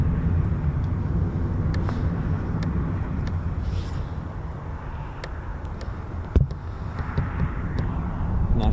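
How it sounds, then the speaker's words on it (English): A C-17 military transport aircraft flies past near Mildenhall, a steady broad engine roar with wind noise holding throughout at moderate distance. "Nice C-17 there."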